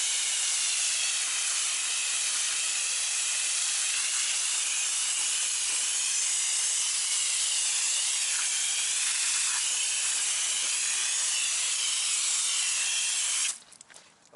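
A regular garden hose sprays water in a steady, loud hiss as it rinses brake dust off a car wheel, running continuously before cutting off abruptly near the end.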